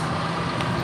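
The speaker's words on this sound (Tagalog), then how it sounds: "So yan po yung bus." A bus rolls past on a street in Switzerland, a brief, steady low engine rumble that is close and moderately loud.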